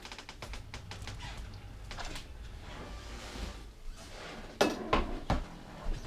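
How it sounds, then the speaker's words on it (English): Lid lifted off a Ninja pressure cooker of cooked chickpeas, with metallic clinks and clatters of the lid and pot, sharpest near the end, over steady kitchen background noise. "I'm going to take the top off"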